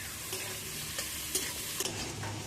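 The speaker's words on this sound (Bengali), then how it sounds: "আরো দিয়ে দিচ্ছি ওর সাথে কোচানো পেঁয়াজ আর গোটা 4 কাঁচা লঙ্কা। প্রথমে এগুলো একটু হালকা করে ভেজে নেব।" Chopped onions and a few whole green chillies fry lightly in a pan with a soft, steady sizzle, broken by a few brief stirring clinks, quiet and close.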